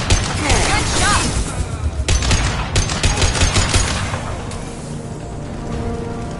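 Bursts of rapid gunfire rattle through a firefight in the Mass Effect 2 video game, dense and loud at first and then thinning out toward the end, with brief voices mixed in.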